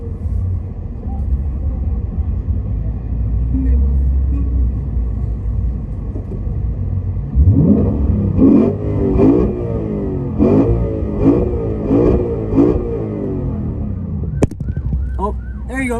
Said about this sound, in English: People are stopping with revving and everything